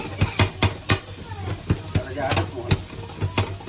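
A spoon stirs carrots and vegetables with salt in a pan for Swiss-style noodles, giving a steady run of about a dozen sharp scrapes and taps over a soft sizzle.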